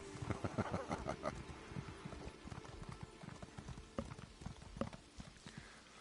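Steady clip-clop of horse hooves trotting at a quick, even rhythm in the video game Elder Scrolls Online, fairly close and clear, with faint background ambience.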